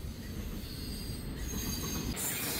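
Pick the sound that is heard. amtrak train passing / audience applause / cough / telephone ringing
amtrak train passing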